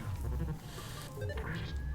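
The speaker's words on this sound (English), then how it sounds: "She's meowing." A cat meows indoors, a short rising cry heard near and moderately loud over a low background hum and some soft knocks.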